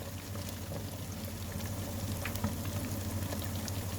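Tofu deep-frying in hot oil gives a steady, close bubbling sizzle with a low rumble, continuous for the whole stretch and with no voices over it.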